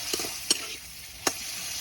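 Roti dough frying in a pan, giving a steady low sizzle with a few sharp scraping stir strokes, two of them standing out clearly, close by and with no talk.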